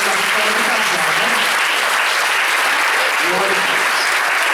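A church congregation at an Assembleia de Deus Sunday worship service breaks into sustained, dense applause that fills the room, while a voice speaks over the clapping.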